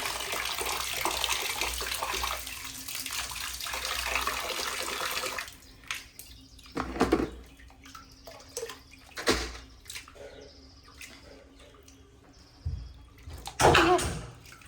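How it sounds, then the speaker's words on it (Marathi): Moong and moth dal washed under running water, a steady gush of tap water splashing loudly for several seconds and then cutting off, followed by scattered clinks and short splashes of grains being handled. "ती स्वच्छ पाणी अशी धुवून काढायची, चाळणीमध्ये मिश्र ठेवायची"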